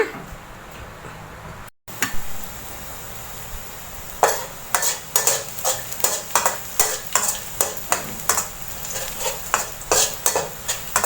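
Garlic stir-fried in a pan for a home-style chicken giblet and sweet pepper dish, with a steady sizzle under repeated, rhythmic scrapes and clinks of a spatula against the pan, close and fairly loud, with no talking.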